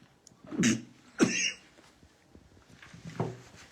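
A few close, rough coughs in a row, with a faint third one trailing after a pause, in an otherwise quiet room.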